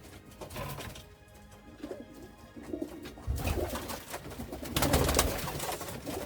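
Pigeons cooing at an urban farm that also keeps dairy goats and dogs, soft repeated coos rising and falling over a busy background, growing louder toward the end.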